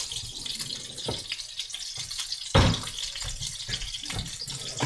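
Coconut milk pours into a pot of tomato curry with a close, wet splashing glug that rises into a louder slosh midway, then settles into lighter dribbling.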